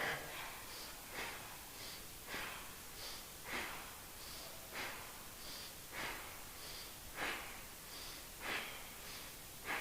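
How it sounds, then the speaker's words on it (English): Faint, steady breathing in and out during an exercise class, a soft airy inhale and exhale repeating about every second in an even rhythm. "taking a breath in. And then the opposite way, inhale, exhale"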